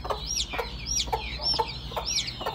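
Hens cluck close by while chicks are being separated from their mother, a steady run of short clucks and rising squawks repeating about every half second, with no voices.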